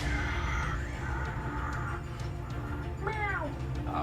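A cat gives a single drawn-out meow near the end, heard over a constant low hum and background noise.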